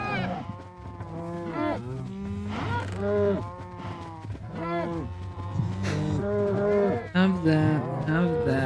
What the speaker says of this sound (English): God, those cows are loud.